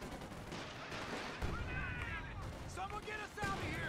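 Rifle fire from German grenadiers in Company of Heroes 2 pours onto an enemy rifleman as a steady, dense crackle of shots, with a commentator's voice running over the battle.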